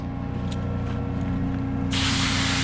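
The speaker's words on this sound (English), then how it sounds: "Give it one more spray." A hot water pump spraying, a loud burst of hissing spray that starts abruptly partway through over a constant low mechanical hum.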